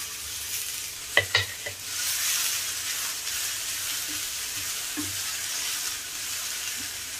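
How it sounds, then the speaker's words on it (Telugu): Chopped bachali leaves drop into a hot pan and are stirred, a few quick scraping knocks at first, then a steady soft sizzling hiss with occasional faint stirring taps. "ఆకు వేస్తున్నాను"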